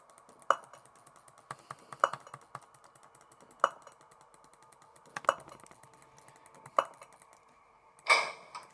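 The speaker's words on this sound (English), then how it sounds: "Because whenever I have the door closed, I have to repeatedly click the mouse." Sharp clicks from a computer mouse pressed repeatedly while playing the horror game Five Nights at Thomas's, a handful of distinct taps spaced about a second or more apart, close and crisp, with a softer rustle at the end.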